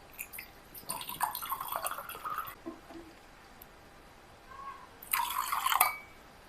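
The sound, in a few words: cold water poured into lemon sharbat with sugar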